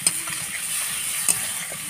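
A spice paste with turmeric, cumin and chilli powder sautés in a pan for a katla fish dish, making a continuous bright sizzle with two small clicks of a utensil against the pan.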